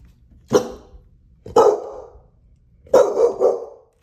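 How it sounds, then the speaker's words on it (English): A pet dog indoors barks loudly and sharply, three separate outbursts with the last a quick double bark, each close to the listener with short pauses of quiet between them. "his pet dog begins barking very loudly at something in the house"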